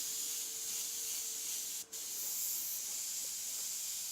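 An airbrush sprays paint from a distance onto a freehand skull design, a soft steady hiss that breaks off for a moment and then resumes.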